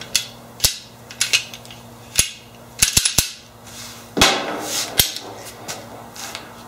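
Clearing a S&W M&P Shield .45 ACP pistol gives a series of sharp, close metallic clacks and clicks from the slide and magazine, spaced irregularly with short gaps of quiet.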